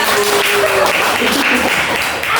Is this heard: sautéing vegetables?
no